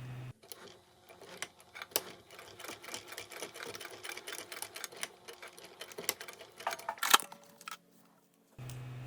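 A sewing machine top stitches fabric tabs on a crossbody bag with steady rapid needle clatter for about eight seconds, close and alone, starting and stopping abruptly.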